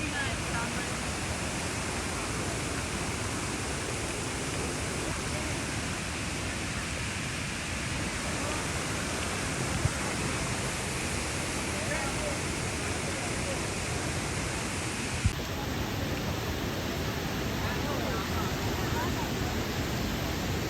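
Fast-flowing mountain river water rushes in a dense, constant roar close by, loud and unbroken throughout.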